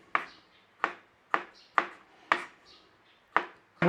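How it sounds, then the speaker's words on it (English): A knife slices olives crosswise into rings on a board, giving seven sharp, evenly spaced chopping taps up close, each with a short woody knock. "We want to slice some of these olives across."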